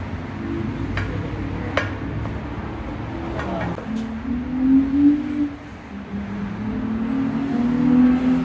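A lowered Chevrolet Silverado pickup truck driving, its engine a low steady rumble that swells as it pulls ahead, heard from close by with a few clunks and knocks.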